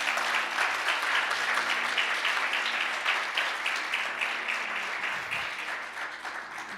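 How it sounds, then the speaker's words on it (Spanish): A church congregation gives loud, sustained applause, thick continuous clapping over a low hum of sound-system tone, tapering slightly toward the end. "Démosles un fuerte aplauso"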